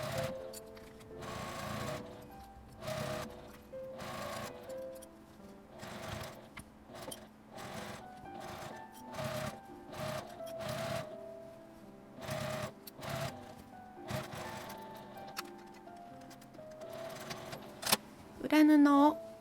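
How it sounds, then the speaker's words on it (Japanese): A sewing machine stitches around the top edge of a fabric tent-style pouch in short mechanical bursts separated by pauses, with light handling noises between runs. "上端を一周縫います。"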